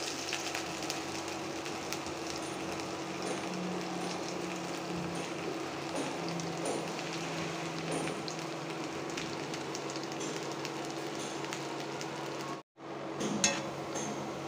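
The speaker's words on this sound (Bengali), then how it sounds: "তেল গরম হয়ে গিয়েছে, দিয়ে দিচ্ছি পেঁয়াজ।" Onion frying in hot mustard oil gives a steady, dense, close sizzle and crackle that runs without a break, apart from a brief dropout near the end; no one talks.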